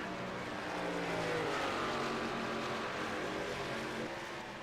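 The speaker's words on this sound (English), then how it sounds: "So much fun getting to hear those cars just roar." Race cars roar on a racing track, heard as a steady, distant engine drone that swells slightly and then eases off, with no one talking over it.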